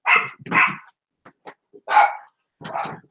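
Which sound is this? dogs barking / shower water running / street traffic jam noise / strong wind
dogs barking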